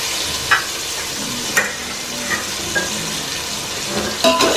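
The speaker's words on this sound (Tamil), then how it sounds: "இது எல்லாத்தையும் நல்லா வந்து கிளறி கொடுத்துக்கலாம்." Fresh curry leaves fry and get stirred in a pan while making Tirunelveli idi sambar, giving a steady close sizzle with a few light scrapes and clinks of a spoon against the metal.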